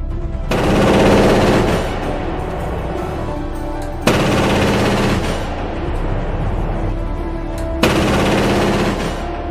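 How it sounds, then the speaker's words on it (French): Skynex air defence system's 35 mm rapid-fire cannons let loose three loud sustained bursts, each a dense roaring stream of shots, separated by brief gaps and echoing afterward. "Il utilise des canons à tir rapide de 35 mm qui peuvent suivre et éliminer les menaces"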